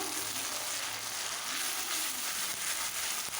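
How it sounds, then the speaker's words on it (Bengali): Ground cumin paste fries in a pan for a rohu fish curry as it is stirred, giving a faint, continuous hiss and sizzle with no talking. "জিরে বাটাটা দিয়ে আমি আবার নাড়িয়ে নিচ্ছি।"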